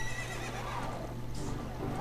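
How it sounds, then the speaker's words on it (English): Epona the horse from Zelda: Ocarina of Time lets out a game neigh over a steady, dense backdrop of game sound, fairly loud throughout a short stretch. "Here comes the horse."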